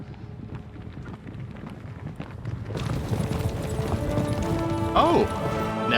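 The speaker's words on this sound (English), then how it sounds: "Get off the road and off the horses." Horses clip-clop along a road in the game Kingdom Come: Deliverance II, hooves steady under wind and game sound, growing louder and busier partway through, with voices talking over them and a brief whinny near the end.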